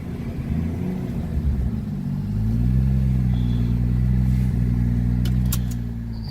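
A manual stick-shift car driven after two months parked, its engine rumbling steadily and swelling louder midway as it pulls away, with a low continuous drone close by and no talk.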